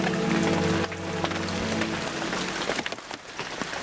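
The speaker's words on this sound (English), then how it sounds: "Just terrible weather, which really makes it tough on the cameras with the fog and the rain and everything else." Rain falling outdoors in fog during a turkey hunt, a dense patter on surfaces, loud and close, with a low droning hum fading out after the first second.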